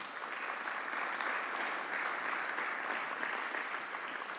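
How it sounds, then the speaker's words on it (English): Steady applause from an audience, a dense wash of clapping that holds at an even level throughout. "Chris, Eric, how about if we give them a round of applause?"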